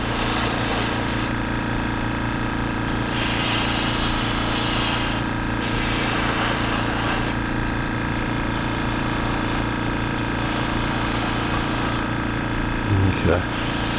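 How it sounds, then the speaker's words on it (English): A steady, loud air compressor drones without a break through the whole stretch in a workshop during a car build, with some brief clatter near the end. "I have to leave my air compressor going because this is so much to do"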